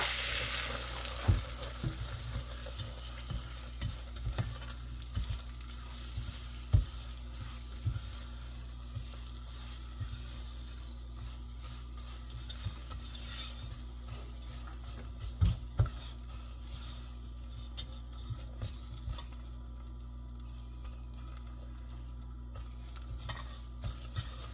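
Brown sugar and milk melt in a pan while being stirred, giving a soft steady sizzle with occasional scrapes and light clinks of a utensil against the pan, close and continuous without talk.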